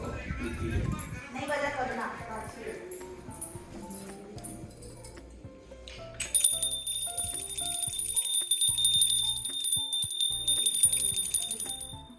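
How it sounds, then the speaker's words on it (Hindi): A small hand bell rings steadily through the second half of a home Garba night celebration in Jhansi, its bright ringing continuing under lively talk and background noise. "लो घंटी और बजा देती, मजा आ जाता उसको।"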